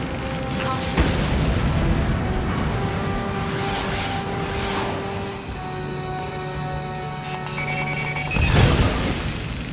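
Missile lock-on warning alarm in the jet combat game Ace Combat: Assault Horizon, a steady electronic tone sounding over engine roar and booms, flaring into a loud crash near the end, with no talking.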